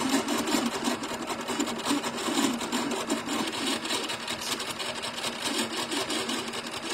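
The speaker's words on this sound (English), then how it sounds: "You hear a little noise, but that's no problem. It's just the tension from the bobbin." Sewing machine shirring fabric with elastic thread, a fast continuous mechanical whirring and stitching clatter with a faint bobbin tension noise, moderately quiet and steady with no speech.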